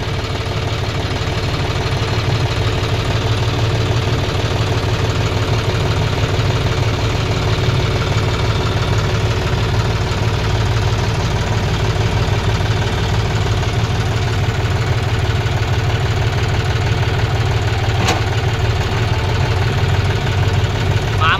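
A tractor engine, John Deere 5050D or Swaraj 744 XT, runs near a JCB 3DX backhoe during loading work, a loud, constant low diesel rumble and vibration with no break throughout.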